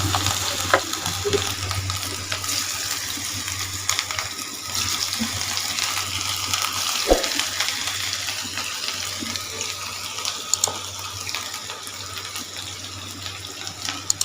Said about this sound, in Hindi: अब हम इन्हें फ्राई कर लेते हैं। ऑयल हमारा गर्म हो चुका है।